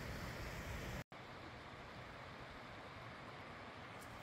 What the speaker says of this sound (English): So the wastewater comes out here.